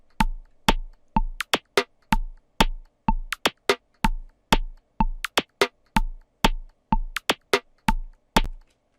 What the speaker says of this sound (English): So this is the percussion.